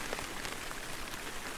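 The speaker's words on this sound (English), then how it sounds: "This rain is annoying." Steady rain pattering on a surface along the Nordkalottleden hiking trail, a dense even hiss of drops with no pauses, fairly quiet and close.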